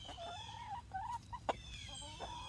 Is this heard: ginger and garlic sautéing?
no